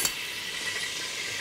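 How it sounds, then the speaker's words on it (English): Onions sizzling in oil in a stainless steel pan, a steady bright hiss with a brief louder crackle right at the start as they hit the hot oil, holding evenly throughout. "In go the onions."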